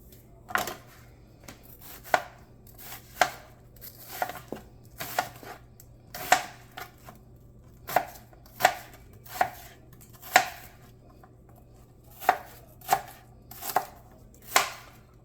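A knife chops pork into pieces for a stir fry, about fifteen sharp, close thunks striking a cutting board in an uneven but steady rhythm, with short pauses between strokes.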